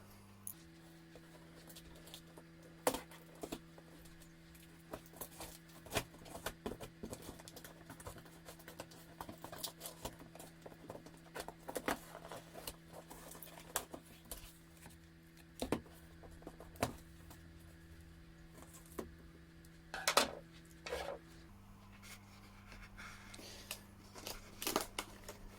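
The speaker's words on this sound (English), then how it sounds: "let's go ahead and cut open the box and see what we've got inside" Cardboard box being cut open for unboxing, with a run of faint scraping, crinkling and tearing noises over a steady low hum, punctuated by sharper clicks and rustles and no talk.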